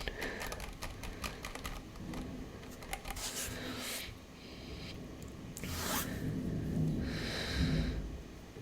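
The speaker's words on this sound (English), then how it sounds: "my mic's on bidirectional mode, so you're hearing my keyboard" Computer keyboard typing picked up by a bidirectional microphone, a faint irregular clatter of keystrokes with scattered louder bursts and some rustling, close and low in level.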